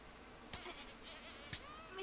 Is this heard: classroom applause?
no